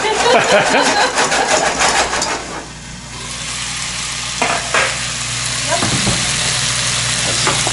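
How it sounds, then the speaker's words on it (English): Potatoes sizzle and fry in a pan as dinner cooks, a dense broadband crackle loudest in the first few seconds with stirring scrapes, then settling into a steadier, softer sizzle with occasional clicks and a low hum underneath. "Fried potatoes starting here"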